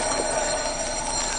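Thousands of mechanical alarm clocks ring together on a crowded stage, a dense, steady metallic jangle with no break.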